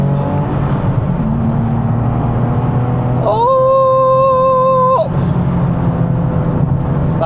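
A Nissan 370Z sports car's engine rises in a loud, sweeping rev heard from inside the cabin, the tone climbing steadily over a few seconds before easing back, with an occasional voice over the engine.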